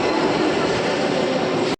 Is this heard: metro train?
yes